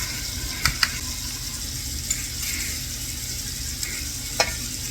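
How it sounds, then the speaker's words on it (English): Shrimp for scampi sauté over medium heat, giving a low, steady sizzle with a few sharp clicks and taps of a utensil against the pan. "You want to saute the shrimp over medium heat for just a few minutes on each side."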